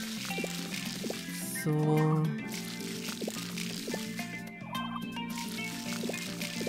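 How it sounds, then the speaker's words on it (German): Crops are watered in the video game Harvest Moon: Light of Hope, with short splashing, dripping water sounds repeating over soft background music while someone speaks briefly. "Ja, alles hier gießen."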